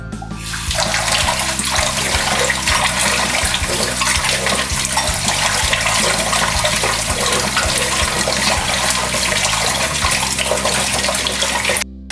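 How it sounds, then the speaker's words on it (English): Steady running tap water pours continuously for about twelve seconds over soya chunks being washed, a full, even splashing rush with no voices. "We'll be washing it under running water."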